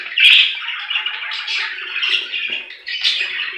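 Budgerigars in a budgie room calling close and loud, a steady stream of chattering squawks and chirps that rise and fall without pause.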